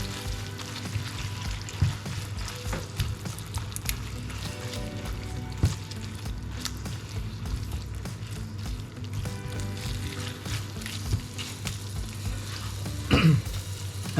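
Tomato sauce is mixed into sizzling ingredients in a pan for Italian wraps, a steady close frying hiss with occasional spoon clicks over a low hum.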